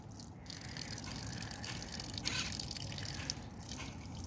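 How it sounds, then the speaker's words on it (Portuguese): A small tap runs water in a continuous close splashing stream, with a few brighter gushes and drips over the steady flow and no voices. "Aproveitar que aqui tem a torneirinha."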